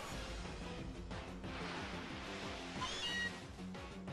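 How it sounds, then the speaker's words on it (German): Meowth's cry in the Pokémon Ultra Sun video game: a cat-like meow, fairly faint, drawn out over steady game music for several seconds. "Hallo Mauzi."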